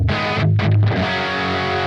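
A distorted electric guitar chord crunches through a driven plexi amp model on a Positive Grid Spark 40, sustained and thick for a couple of seconds, with no voice.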